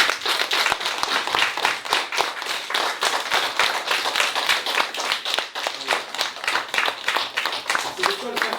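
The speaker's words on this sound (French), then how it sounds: "on va applaudir, si vous voulez bien, pour les dessins des enfants handicapés" Children and adults clap together at a school Téléthon at École Sainte-Anne in Ploufragan, a close, lively patter of hands with uneven rhythm and voices chattering and calling out throughout.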